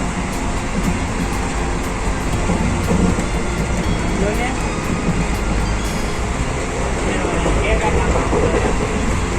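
Continuous rumble and rattle of a train running on rails, heard from inside, steady and loud with faint clanks, voices murmuring underneath.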